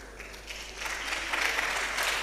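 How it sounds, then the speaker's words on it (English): Audience clapping at a national public speaking competition semi-final, a dense, steady patter of many hands that swells a little partway through and continues without voices. "Please, let's hold the clapping."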